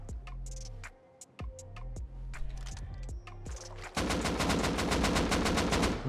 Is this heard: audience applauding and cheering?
no